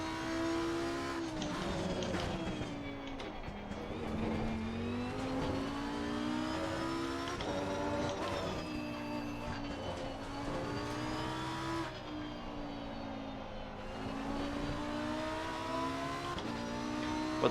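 A Lamborghini Huracan EVO race car in Assetto Corsa Competizione laps the Hungaroring, its engine note rising and falling steadily through gear changes and corners, loud and continuous, with brief tire noise and no talking.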